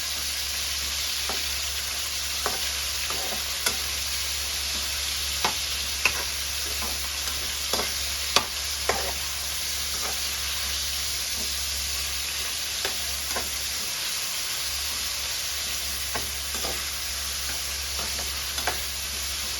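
Garlic and onion stir-fried in a pan for a home-style pork, onion and bell pepper dish, giving a steady close sizzle broken by scattered sharp spatula scrapes and taps throughout.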